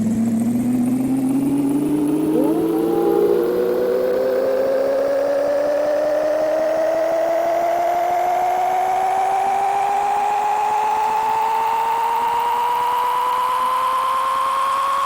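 Big Rigs: Over the Road Racing on PC: a truck engine drone climbs steadily in pitch without a break as the rig reverses ever faster, loud and continuous.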